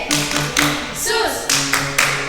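Children at a Sunday school service clap the Jesus clap rhythm in crisp, evenly spaced bursts over sung voices, with a short pause mid-pattern before the claps resume.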